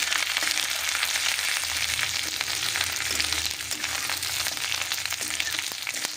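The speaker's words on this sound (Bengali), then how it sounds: "দিয়ে এই আদা রসুনটাকে খুব ভালো করে আমরা ভাজা করে নিচ্ছি।" Grated ginger and garlic fry in a pan for a mustard-greens chutney, making a steady, close, even sizzle that runs on without a break and without talk.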